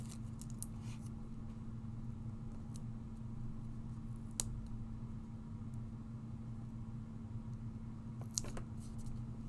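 Scissors cut through completely coated material with a few faint, scattered snips over a steady low background hum.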